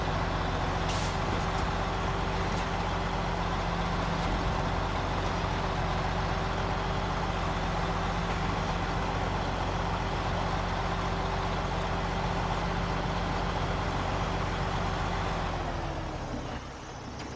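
A Kenworth truck with air brakes near old mines: a loud, steady engine drone with a low hum holds for most of the stretch, then sags and winds down near the end, with no voices.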